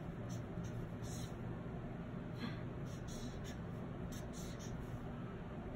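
Pen or marker strokes scratch out iodine chemistry notation, faint, intermittent squeaky scribbles over a low steady room hum, with no talking.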